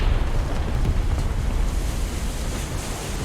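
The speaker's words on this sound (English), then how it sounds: "Sending out a salvo, see if that'll connect." A naval gun salvo in War Thunder, a dense, continuous roar of heavy booming blasts and rumbling wash, loud and steady throughout with no pause.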